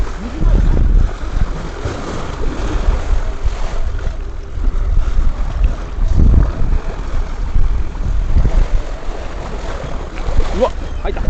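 Seawater splashes and slaps against a sailing yacht racing in strong wind, rough bursts of water and gusting wind noise over the hull, with people talking and exclaiming throughout.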